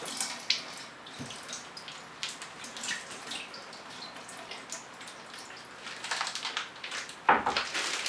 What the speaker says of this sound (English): You dump the water out.